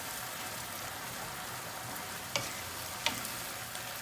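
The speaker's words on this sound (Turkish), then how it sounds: "Kıymam güzelce pişmeye başladı." Ground meat sizzles steadily in a hot pan, a constant close crackle broken by a couple of sharp clicks of a utensil.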